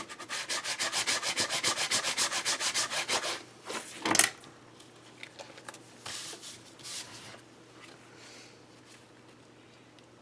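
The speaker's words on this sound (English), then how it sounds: "Let me just burnish that a little bit from the back." A paper card is burnished from the back with rapid, rhythmic rubbing strokes for about three seconds, then a sharp scrape, followed by softer, scattered rubs and handling noises.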